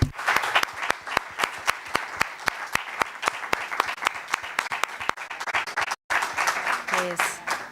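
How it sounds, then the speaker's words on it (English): An audience at an international conference session on Robert Capa breaks into a long round of applause, sharp rhythmic clapping from many hands that stops briefly and resumes, with some voices underneath. "thank you all again for attending this session. And a round of applause,"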